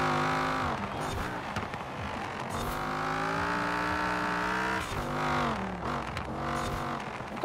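A Dodge Viper in the racing game Forza Horizon 4, a naturally aspirated car, revs and shifts up repeatedly, its loud engine note rising and dropping in pitch between gears, with some tire squeal.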